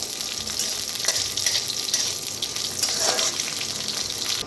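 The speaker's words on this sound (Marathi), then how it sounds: "थोडंसं तेल वतून भाजून घेऊया खोबऱ्याला थोडंसं वतून भाजून घ्यायचं मोहरीचं तेल वापरलेलं आहे" Grated coconut roasting in mustard oil on a village-style wood-fired stove, giving a steady, close sizzle with soft crackle and faint stirring that continues throughout.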